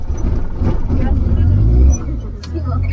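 A road vehicle rumbles past nearby, its low engine noise swelling and then falling away abruptly, with people's voices chattering underneath.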